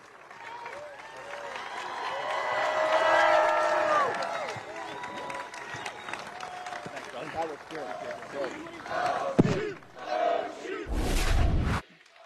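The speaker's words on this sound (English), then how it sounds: "To the chants of Oshie, Oshie, the crowd still celebrating." A hockey arena crowd cheers and chants a player's name in a rising, rhythmic roar. The chant swells and fades, then comes back, with loud bursts of noise and some talk near the end.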